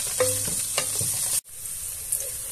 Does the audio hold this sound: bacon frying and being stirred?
yes